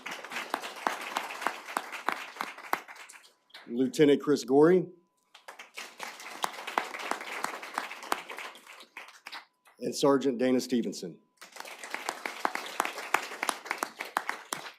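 Audience applause at a city council work session recognizing police officers: steady scattered clapping runs through most of the stretch, broken twice by brief spoken name announcements.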